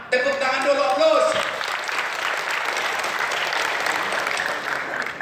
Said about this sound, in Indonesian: Tepuk tangan dulu, aplaus.